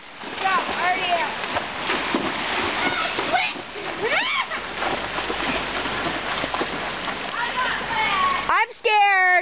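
Constant loud splashing and churning water as riders push through a flooded river, with people shouting and talking over the spray throughout.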